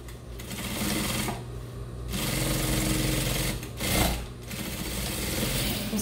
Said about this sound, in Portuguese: vou pular essa costura e vou costurar aqui embaixo agora